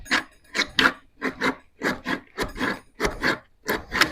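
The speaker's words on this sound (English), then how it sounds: "It's almost like the spoon is actually cutting the metal, but it's actually just pushing it apart through the force of your hand." A spoon is worked back and forth against the rim of a metal can lid to pry it open, giving close, rhythmic scraping and rasping strokes, about a dozen in quick succession.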